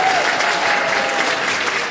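A crowd applauds to welcome young singers at a Latvian diaspora song event. The clapping is dense, steady and sustained, fairly loud and close, with no break across the whole stretch.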